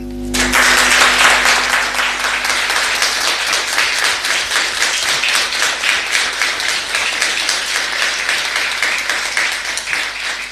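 Sustained audience applause at a municipal swearing-in ceremony after a public accounts official takes the oath of office, steady dense clapping from a sizeable crowd that continues evenly throughout.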